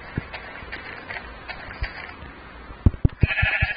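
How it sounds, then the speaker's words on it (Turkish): Synthetic Minecraft sheep bleats sound a few times amid soft tapping and clicking, with a sharper burst of clatter and bleating near the end. "Diğer koyun gel buraya."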